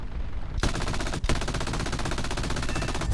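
Sustained aircraft machine-gun fire from 7.62 mm guns strafing ground targets in War Thunder: a loud, continuous rattling burst with a brief break near the middle before the rapid fire resumes.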